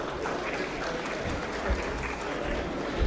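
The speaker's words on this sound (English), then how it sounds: "Let's have a round of applause for this panel." Audience applause for a policy dialogue panel at an ACCA session in Pakistan, a steady wash of many hands clapping at moderate level for a few seconds, with some voices mixed in.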